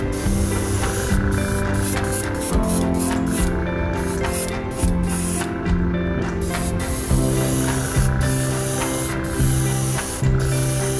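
Transparent blue paint sprayed onto a chrome fishing lure, layered from the top down for an overspray effect, comes as a series of close, hissing spray bursts with short pauses between them.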